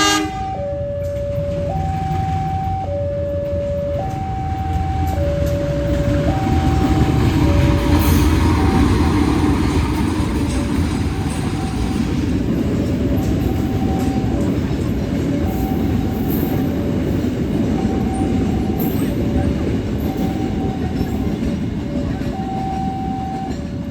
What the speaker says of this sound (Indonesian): ini ada kereta api BBM Pertamina dari stasiun Madiun tujuan Benteng ditarik CC201